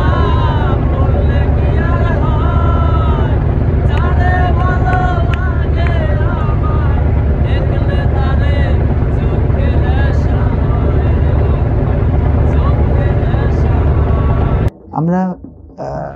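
A passenger launch travels on a river from Dhaka toward Chandpur, its engine giving a steady, loud droning rumble throughout, with voices chattering over it and a sharp break near the end.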